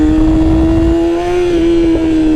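Yamaha R6 motorcycle engine holding a steady, loud rev in first gear during wheelie practice, a sustained tone with slight dips and small pitch wobbles throughout.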